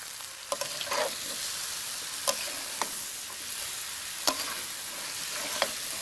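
Fish coated with turmeric and salt frying with potatoes in an oiled pan: a steady, dense sizzle runs throughout, broken by a few sharp clicks of a spatula against the pan.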